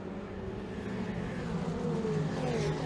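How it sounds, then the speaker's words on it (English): Ferrari Challenge race cars at full throttle climbing uphill at the Imola circuit, a continuous loud engine roar whose pitch climbs steadily as the cars accelerate. "Big climb uphill now, maximum throttle up the hill as Sam is under pressure now, Fabian getting"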